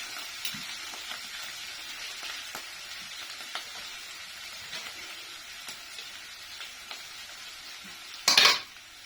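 Garlic frying in a pan while being stirred, a soft continuous sizzle with occasional scrapes and taps of a utensil, then a brief louder clatter near the end, no talk.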